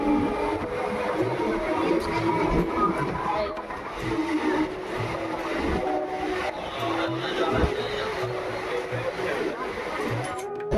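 Inside a moving local train, a constant rumble and rattle of wheels and carriage runs throughout while people talk over it.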